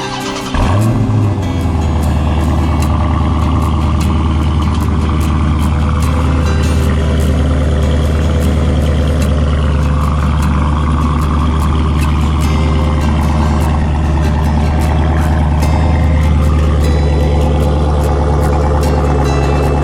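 A 2015 Dodge Challenger R/T Scat Pack fires up by remote start with a quick rev, then settles into a loud, steady, deep-toned idle heard from near the rear exhaust for the remaining seconds.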